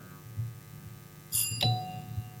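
A quiz-show buzzer bell rings once, a bright ding that fades against a low hum of room noise at a school quiz competition.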